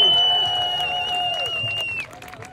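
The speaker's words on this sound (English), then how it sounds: "Give a big round of applause to Lamin, everybody." A crowd claps and cheers at a rally for Palestine, with a long, clear whistle over the scattered applause, which fades sharply after about two seconds.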